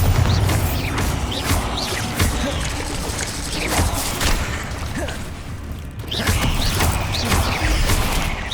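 Blast effects from the Bombarda spell in Hogwarts Legacy land as a run of loud, dense booms and crashes with rumbling debris, continuing over several seconds.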